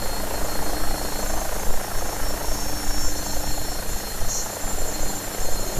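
Continuous rotor and turbine drone of an AgustaWestland AW109SP helicopter in a flight simulator, a steady, fairly loud cabin hum with gentle pulsing and no voices.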